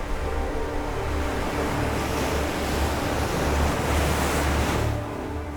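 Ocean waves roll and wash steadily where lava meets the sea at Hawaii Volcanoes National Park, a loud continuous surf roar mixed with wind, no voices.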